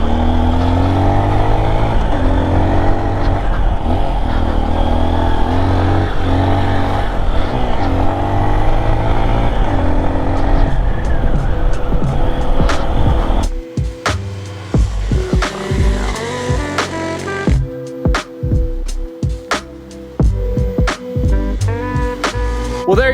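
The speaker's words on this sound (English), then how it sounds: "there you have it, the all-new 2023 Honda XR150L" Engine of a 2023 Honda XR150L dual sport motorcycle under way, a loud steady drone with shifting pitch and revs, breaking into choppier bursts and gear changes partway through, with no talking over it.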